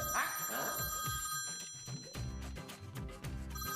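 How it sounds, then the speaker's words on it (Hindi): A telephone bell rings continuously in a comedy TV episode, loud and close, with a shrill repeating ring layered over dramatic background music. "फोन आ रहा है यार"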